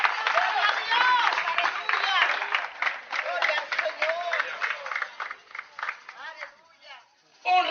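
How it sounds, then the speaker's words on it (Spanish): A church congregation gives loud applause and cheers, with dense clapping and raised voices that gradually thin out over several seconds. "Dale un aplauso fuerte al Espíritu Santo de Dios."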